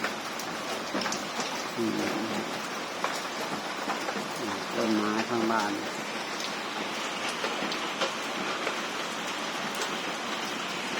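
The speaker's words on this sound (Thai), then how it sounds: "ฝนกำลังตกหนัก" Heavy rain pours down in a dense, constant hiss at a house in Lam Ta Sao, Wang Noi, Thailand, with someone talking briefly over it.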